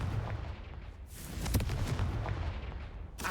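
Confringo fire spell blast in the video game Hogwarts Legacy, a dense booming burst with crackling sustained rumble throughout and another sharp impact near the end, loud and without speech.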